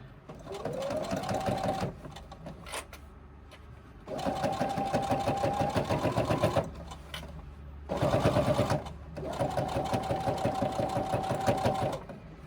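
A sewing machine stitches a crossbody bag in three long runs of steady, rapid needle chatter, separated by short pauses, close and loud with no talking.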